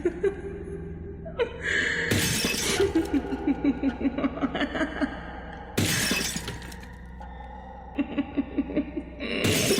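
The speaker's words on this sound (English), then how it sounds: "and the shattering of glass." Glass shatters with sharp crashing bursts in a horror film scene, followed by tinkling shards and a rapid, ticking, laugh-like pulsing between repeated smashes, with eerie tones beneath.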